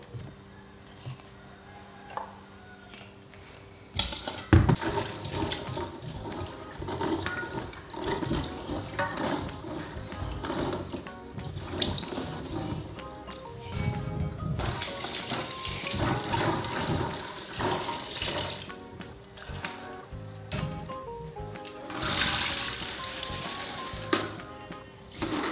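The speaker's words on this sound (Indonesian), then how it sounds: "sebelum dimasak cuci dulu supaya bersih dan menyehatkan" Freshly harvested garden vegetables, cokak and chilies, are rinsed under running water, a continuous splashing and trickling with occasional clatters, close and fairly loud, without speech.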